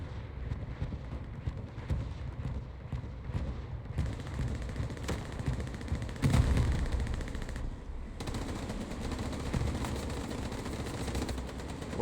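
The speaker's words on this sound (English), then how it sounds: "As I believe that is an LSM bombing run" Game-audio bombing run called in during a competitive online match: a dense, continuous barrage of rapid gunfire and explosive booms, swelling louder around the middle with heavy low rumbling throughout.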